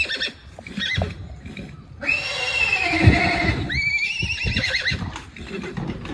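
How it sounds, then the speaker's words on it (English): A stallion near a mare in heat neighs loudly and close by, with a long shrill whinny and a second rising call, among some shuffling movement and no speech. "this is what happens when you have a stallion and a mare that's in heat"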